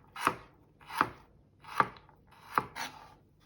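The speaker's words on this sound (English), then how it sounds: "On the flat side, do nice small strips and rock your knife across" A knife chops a carrot into small strips on a cutting board for mushroom barley soup, four crisp evenly spaced thuds close by, each with a short scrape, followed by a softer fifth, with no voices.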